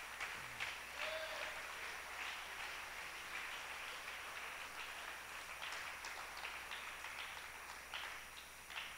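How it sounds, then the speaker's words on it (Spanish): Church congregation clapping together, a soft, steady patter of many hands at a distance with a faint voice or two beneath. "Dale una ofrenda de palmas,"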